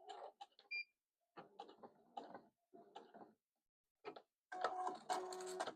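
A sewing machine backstitches along quilt binding in short, separate bursts of mechanical whirring, with a few brief stops between runs and a louder, longer run at the end, close and quiet overall.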